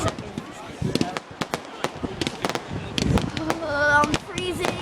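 Fireworks burst at a high school senior night with a rapid series of sharp pops and crackles, moderately distant, while people talk nearby.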